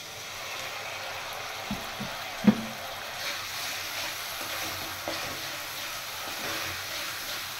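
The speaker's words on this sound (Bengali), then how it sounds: "এবার মশলাটা একটু আমি ভালো করে ভেজে নেব।" Spice masala sizzles and fries in a pan with a steady hiss, broken by a few brief stirring knocks against the pan, close and fairly soft with no talk.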